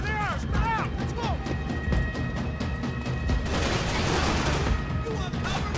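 Heavy gunfire in the video game Max Payne 3 as a continuous barrage of shots with crashes and ricochets, loud and near, while voices shout over the fight.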